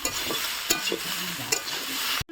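Spice paste with turmeric and chili frying in a pan, a steady close sizzle broken by a few sharp scrapes of a spoon as it is stirred, with no talking.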